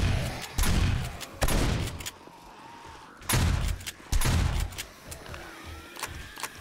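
A pump shotgun fires in 7 Days to Die during a nightmare horde-night fight. It gives four heavy, booming blasts in two pairs, loud and close, each with a short mechanical tail, and no voices over the shots.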